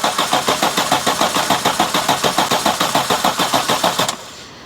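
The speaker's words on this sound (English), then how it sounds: "Now remember, it will crank for a little bit before it gets oil pressure," A Daihatsu Feroza engine cranks over on the starter without firing, a fast even rhythmic chugging of about twenty-five beats, loud and close, then the starter cuts off and leaves a faint hum.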